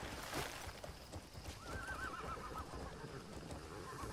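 A horse in the video game Crimson Desert neighs with a wavering, drawn-out whinny midway through, set against a steady background hum without talk.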